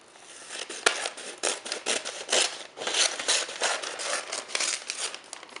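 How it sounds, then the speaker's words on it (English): Scissors trim excess newspaper wrapped around a pillar candle, a run of close, crisp snips and rustling paper repeating steadily with no talking. "So I'm just going to go ahead and trim off the excess."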